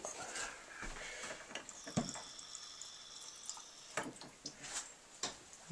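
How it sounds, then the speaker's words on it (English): Water runs from a bathroom sink tap in a rustic island camp cabin, a faint steady trickle and splatter with scattered clunks and handling noises, fairly quiet and distant. "we've got a sink with water"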